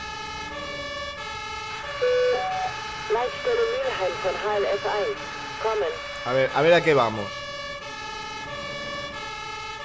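A fire truck siren wails in a video game, a loud steady pulsing tone that starts after a brief pause while someone talks over it.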